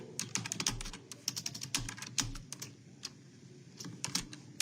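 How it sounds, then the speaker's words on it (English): Rapid typing on a computer keyboard, close and clear, with bursts of quick clicking keystrokes broken by short pauses. "she's typing"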